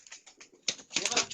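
A dub pigeon held in the hand gives short, soft coos in a few quick bursts, close and fairly quiet, with some handling noise and nearby voices.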